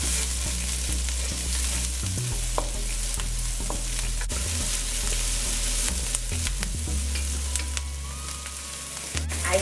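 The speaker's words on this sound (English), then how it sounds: "The first thing I'm going to do is to fry the wiri peppers and the onion." Wiri peppers and onion frying in a pan, a steady loud sizzle with intermittent stirring scrapes and light utensil taps close by, continuous throughout.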